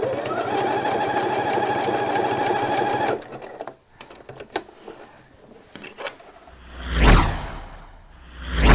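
A home sewing machine stitching buttonholes on a summer shirt runs loud and steady for about three seconds, then stops, followed by handling rustles and a soft swishing movement of fabric.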